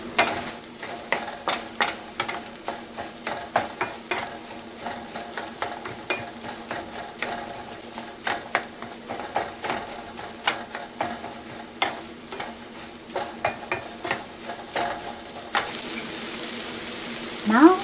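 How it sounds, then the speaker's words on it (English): An omelet cooks over low heat in a frying pan, giving a soft, steady sizzle with scattered crackles and light stirring clicks over about eighteen seconds, quiet and close with no talking. "Now we cook on low heat."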